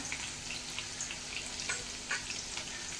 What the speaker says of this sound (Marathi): परतली गेली म्हणजे तळली गेली मिरची